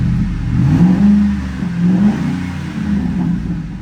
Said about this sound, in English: that exhaust sounds just killer